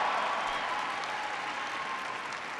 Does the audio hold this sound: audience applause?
yes